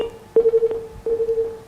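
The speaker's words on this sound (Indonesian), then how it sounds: "Kita angkat dulu telepon pemirsa yang sudah bergabung." A viewer's telephone call connecting into a live broadcast, with a steady phone-line tone broken by several short bursts and clicks, fairly loud and with no talk over it.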